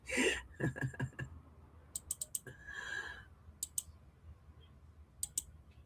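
Tarot cards are shuffled in a series of soft crisp clicks and riffles in short irregular bursts, close by, with a few faint breaths and murmurs between them.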